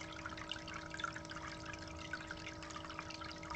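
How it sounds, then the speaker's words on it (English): Slow water trickles and pours through a gold-prospecting sluice with a green mat, making a steady, close, even burble with small splashes and no talking. "The water was super slow moving where I was at"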